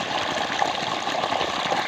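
Water gushes from a motor pump on a farm, a steady, close rushing noise that stays even throughout.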